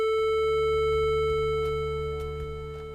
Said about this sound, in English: So now you hear a pretty pure sine wave.